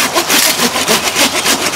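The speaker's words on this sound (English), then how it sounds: "I'm not putting too much pressure on it, just gentle sawing, and it comes out nice and clean." A hand saw cuts through thick bamboo in loud, close, rhythmic strokes, about five back-and-forth rasps in under two seconds, with no talk.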